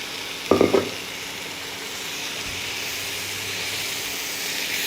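Green moong dal goes into a hot pan of spiced oil with a brief clattering splash, after which a steady, moderately loud sizzling hiss carries on alone.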